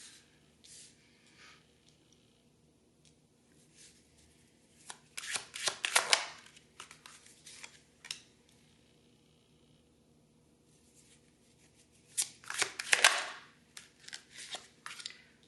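A deck of oracle cards being shuffled by hand: two bursts of crisp riffling and flicking snaps, each a second or two long, separated by quiet pauses with soft handling rustles.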